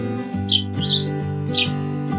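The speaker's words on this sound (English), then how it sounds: "sparrow," Three quick, high sparrow chirps ring out over a continuous musical backing.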